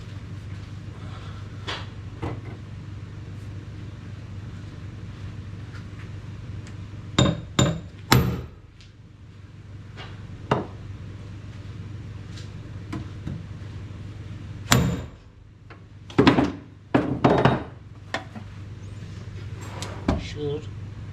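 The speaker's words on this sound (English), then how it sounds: "A trusty hammer." Several sharp metallic strikes land in scattered bursts of two and three over a steady low hum while fitting a Coolerworx shifter to a VW Lupo, following drilling of holes in a primed plate.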